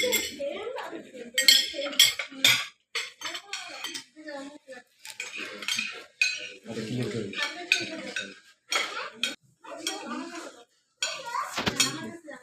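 Dishes clatter at a family meal as an empty plate is handled, with repeated close clinks of plates and cutlery in uneven bursts, heard under frequent conversation.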